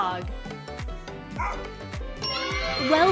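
A dog barks a few times in quick yips over a rhythmic children's music track with steady beats, a bright chime tone rising at the end.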